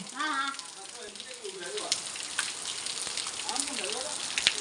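Heavy first-of-the-season rain pours down on a village, a dense, steady hiss with scattered louder spatters throughout, while voices talk over it at the start and again near the end.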